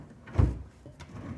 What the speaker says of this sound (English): But these two drawers close just fine.